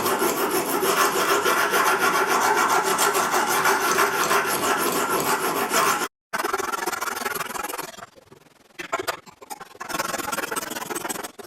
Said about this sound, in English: As I'm reprofiling the blade, I won't worry too much about the number of passes I do per side with the rough stones.